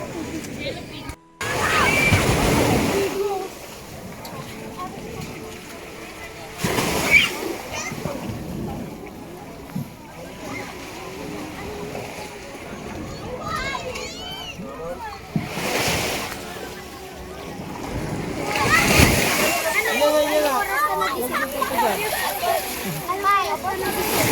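Seawater surging and splashing into a beach cottage during a family outing, sloshing and swashing in repeated bursts with surf behind, under near constant talk from several people.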